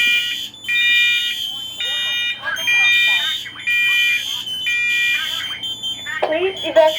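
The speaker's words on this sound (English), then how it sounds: "A fire alarm has been activated in the bedroom." A smoke alarm in a bedroom sounds in loud repeating high-pitched beeps, alternating with a recorded voice announcing the alarm, close and insistent.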